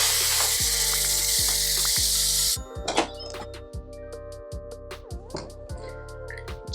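A loud steady hiss of steam from a pressure cooker's manual release rushes out for a few seconds, then cuts off, leaving quiet clicks and light taps.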